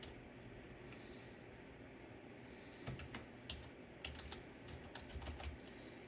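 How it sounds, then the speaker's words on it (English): Keys tapped on a computer keyboard while entering a Wi-Fi network name, a quiet run of light clicks that grows into short irregular bursts in the second half, heard close against a faint steady hiss. "your password, you have to put your password just like it is, caps and everything."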